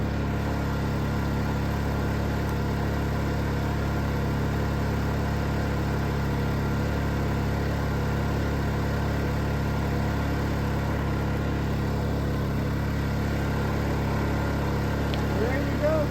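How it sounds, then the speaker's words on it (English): A Predator 2500 inverter generator running at a steady, fairly quiet idle hum, constant and close with no change in pitch throughout. "Super quiet inverter generator."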